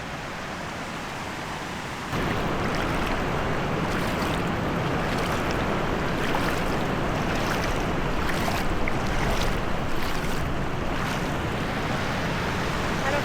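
Rushing water at a deep creek crossing in Ouachita National Forest, a loud, continuous broadband roar that jumps up after two seconds and stays steady, with some wind buffeting mixed in.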